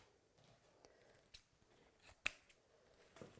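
Scissors snipping through deco mesh for a patriotic Fourth of July wreath, a few faint, scattered crisp cuts with one sharper snip, heard close and quiet with no talking.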